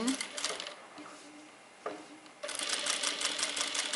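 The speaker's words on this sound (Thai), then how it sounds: "แต่ถ้าเกิดว่าเราค่ะจะต้องเย็บแบบพวกเส้นโค้งเราจะต้องเอามือนะคะจับทั้งสองฝั่งแบบนี้นะคะ เพื่อที่จะหมุนผ้า" Industrial sewing machine stitching a curved seam in fabric, a dense rapid mechanical whir in two close, loud bursts separated by a quieter pause while the cloth is turned, with faint voice in the background.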